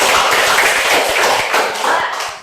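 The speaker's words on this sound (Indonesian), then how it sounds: "tepuk tangan dulu untuk Kaila" A classroom group claps together for a student named Kaila, a short, loud, close burst of many hands with brief taps standing out through the dense patter.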